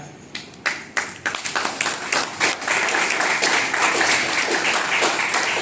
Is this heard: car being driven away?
no